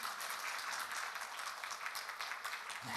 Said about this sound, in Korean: 박수도 한번 쳐요 그럼.